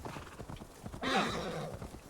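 Rapid hoofbeats of a galloping horse, then a loud, shrill neigh cutting across them, close and clear, in the video game Assassin's Creed Valhalla.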